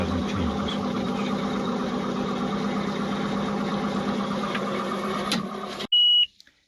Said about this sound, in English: Here I ask my wife to start engine while I'm doing video